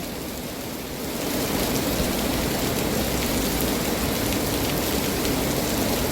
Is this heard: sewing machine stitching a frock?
no